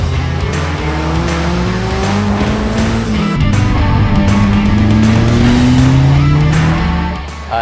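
A Toyota GR Yaris rally car on a daytime stage run: loud, close engine roar with rising and falling revs through gear changes, and tires scrubbing on the surface throughout.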